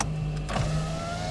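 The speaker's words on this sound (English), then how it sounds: "Got electric windows" A Suzuki Alto's electric window motor whirring as the glass moves, a short close mechanical hum inside the car with a brief clunk partway through.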